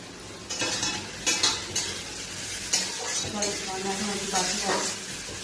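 Okra being stir-fried spicy in a pan, giving a steady sizzle under repeated scraping and clinking strokes of a utensil against the pan, fairly close.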